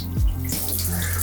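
Water hisses and sprays from a leaking shower head neck at a fitting, a steady close rushing stream with no talk over it.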